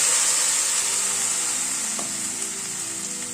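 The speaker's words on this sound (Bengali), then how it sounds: "এবার মশলাটাকে একটুখানি নাড়াচাড়া করে নেব।" Spice paste fries in a pan with a steady, close sizzling hiss that fades slightly toward the end, with a faint scrape of stirring partway through and no talking.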